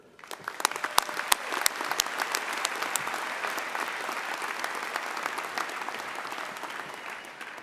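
Sustained applause from a commencement audience greeting engineering keynote speaker Tim Bucher, dense and steady clapping with a few sharper nearby claps, no voices over it.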